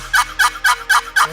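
A wooden turkey box call stroked with the side panel left free, five loud raspy yelps in an even rhythm, ringing and close.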